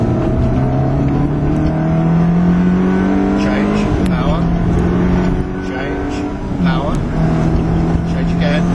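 Ferrari engine pulling at full power on a track, a loud sustained drone that climbs steadily and drops at each gear change, with an instructor's voice talking over it.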